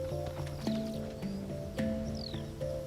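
Przewalski's horses move across the Mongolian steppe, with soft hoof clip-clops and faint whinny-like tones repeating over a low outdoor background.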